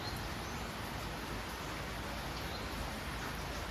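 Rain falls steadily in a continuous, even hiss of drops at a fairly soft level, with no voices.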